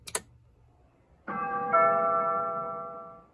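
A two-tone house doorbell chime on an intercom system rings once, clear and close, its tones sustaining and slowly fading, after a brief click of the test button.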